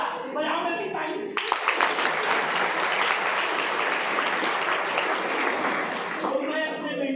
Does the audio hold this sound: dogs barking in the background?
no